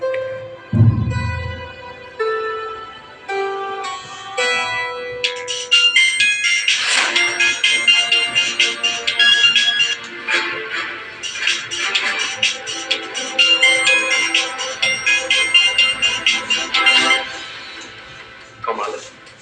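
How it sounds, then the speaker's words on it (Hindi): A phone rings on and on without being answered, a repeating electronic ringtone melody held for several seconds, fairly loud and close, after a brief low thump at the start. "मानसी मेरा फोन क्यों नहीं उठा रही है?"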